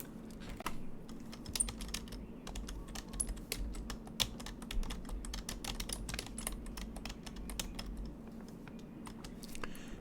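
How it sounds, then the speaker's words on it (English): Someone types on a computer keyboard, producing rapid, irregular clicking keystrokes with short pauses. The sound is quiet and close, over a low background hum, and no one speaks. "let me just type something into the chat"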